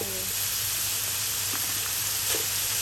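Marinated pork stir-frying in a pan for a Thai-style spicy noodle stir-fry, with a steady broadband sizzle and hiss running continuously, plus a few faint scrapes of stirring.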